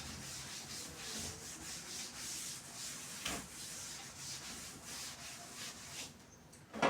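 Steady rubbing of an eraser or cloth across a board in a classroom, a soft continuous scrubbing texture with faint rhythmic strokes, quiet and close, ending with a small bump.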